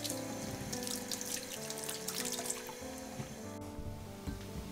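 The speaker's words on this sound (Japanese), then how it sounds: "皮ごと使うのでよく洗っていきます。" Kumquats are washed whole under a running kitchen tap, giving a steady splashing stream of water with clattering and rubbing of the fruit throughout. The water sound is near and continuous, with no talk.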